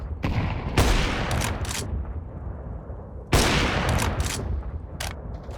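Gunfire in a first-person shooter video game, with two loud bursts of rapid shots, each followed by a decaying rumble, close and prominent with no talking.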